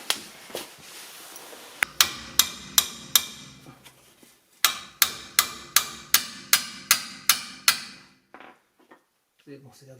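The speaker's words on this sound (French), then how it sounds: "Donc là c'est parti, on va desserrer." A ratchet loosens a bolt on an Audi A3 suspension arm, giving two runs of sharp, evenly spaced metallic clicks heard up close, then a few faint knocks at the end.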